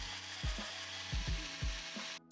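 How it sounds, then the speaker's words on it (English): A small drill bites into the rivet post on the base of a Matchbox No. 36A Austin A50 diecast model, giving a close, steady whine punctuated by several short grinding bursts before stopping abruptly. "drill into the rivet post"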